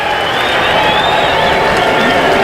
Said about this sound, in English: Razorback players on the top step, hyping up the crowd